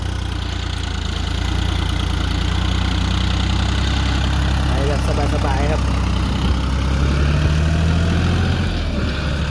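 John Deere 5040D tractor idling along at low revs while levelling a rice field, a steady deep diesel rumble throughout with a faint knocking texture.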